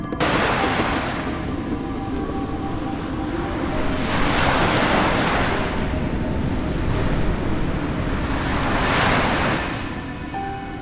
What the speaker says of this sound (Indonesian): Deburan suara ombak membuat suasana di tempat itu semakin mistis.